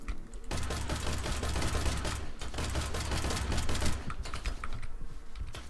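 Rapid automatic gunfire in the video game Industria crackles as a fast, dense stream of sharp shots. It pauses briefly, then resumes in a looser burst near the end.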